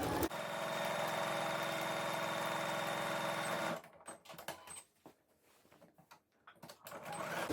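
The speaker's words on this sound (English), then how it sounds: "So stitch along both those pocket pieces, reverse at the beginning." A sewing machine top stitching along pocket pieces for comfy pants, running steadily with a loud whirring hum for a few seconds, then stopping, followed by faint fabric handling and light clicks.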